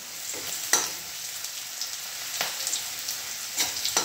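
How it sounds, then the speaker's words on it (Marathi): Hot oil poured over a dish of chopped dill greens gives a steady, close fizzing sizzle, broken by a few sharper crackles and pops, with no talking. "आता हे तापलेलं तेल टाकायचं आहे।"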